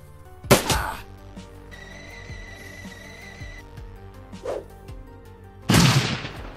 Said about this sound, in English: Oh, that's a nasty grenade.